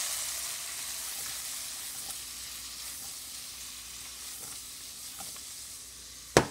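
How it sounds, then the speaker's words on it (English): Cherry tomatoes sizzle in a pan with garlic and oil, a steady soft frying crackle with occasional stirring taps and a sharp clatter at the end. "Okay, the garlic now is changing color, so it's time to put the tomatoes in there."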